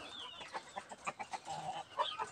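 A small native chicken hen clucks in a quick run of short, close clucks, with a slightly longer drawn-out call near the end.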